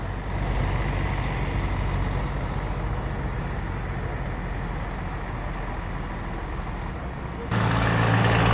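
A city bus pulling into a bus station, with a heavy, continuous diesel engine rumble close by, steady for most of the stretch before a louder, deeper surge near the end.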